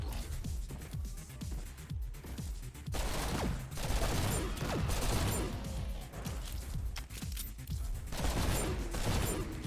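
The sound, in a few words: full-auto treachery gun firing in the video game GTTOD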